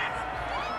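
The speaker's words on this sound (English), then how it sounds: "This home crowd, they're happy with that call." Home stadium crowd at an NFL game between the Jaguars and Colts cheering a penalty call, a dense, loud roar of voices with scattered whoops sustained through a brief moment.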